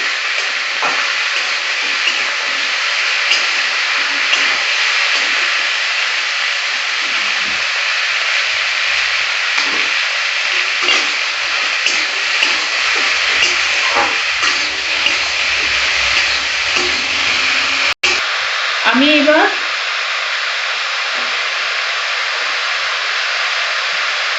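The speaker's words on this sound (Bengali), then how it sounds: "তেল গরম হয়ে গেছে, এবার আমি লাউটা দিয়ে দিচ্ছি।" Bottle gourd frying in hot oil for lau masoor dal gives a steady, loud hiss and sizzle throughout, with faint stirring scrapes and a brief clatter near the end.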